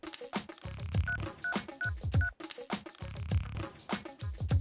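A quick run of four phone keypad beeps sounds over loud background music, which keeps playing afterward.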